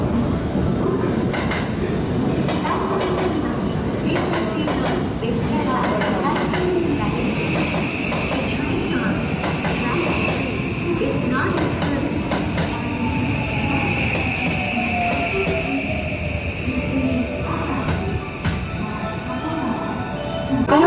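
A 683 series express train rumbles past steadily near Osaka Station with wheel noise and a faint high squeal, continuous throughout with a brief tone sweeping down late on.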